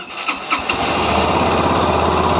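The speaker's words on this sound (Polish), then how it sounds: "Odpalamy go normalnie tutaj starterem" A Yamaha YB/YBR 125 motorcycle engine cranks on the electric starter with a few short bursts, then catches and settles into a steady, close, loud running rumble.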